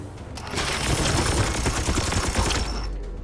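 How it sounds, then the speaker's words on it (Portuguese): Rapid automatic gunfire rattles loudly in Warhammer 40,000: Chaos Gate Daemonhunters, a dense, sustained burst lasting a couple of seconds before it tails off, heard alone without talk. "De qualquer jeito eu vou atirar aquele cara ali."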